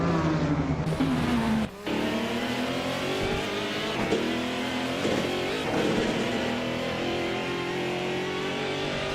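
LMP2 prototype race cars in a racing video game, engines droning and revving with shifting pitch as cars run close together, tire squeal and passing whooshes, with a short cut in the sound early on.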